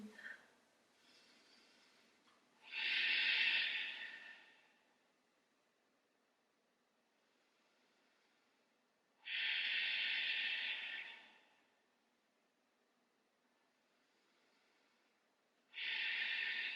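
Three long, deep inhalations during a vinyasa yoga session, each a loud, airy hiss close to the microphone, separated by quiet pauses.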